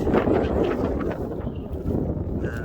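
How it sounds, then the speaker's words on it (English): Heavy wind blasts against a Samsung phone's microphone, a continuous roaring rumble with uneven gusts throughout, close and loud. "It's quite windy."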